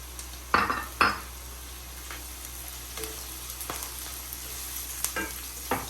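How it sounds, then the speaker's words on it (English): Chopped onions frying in a pan for a Kerala fish curry, a soft steady sizzle punctuated by a few sharp clinks and scrapes of a spoon stirring against the metal. "Now we can add the chopped onions into it."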